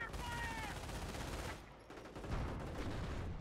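A heavy machine gun fires in a Company of Heroes battle between Wehrmacht and US forces, rapid continuous bursts rattling at a fairly faint level, mixed with other battlefield gunfire and scattered voice callouts.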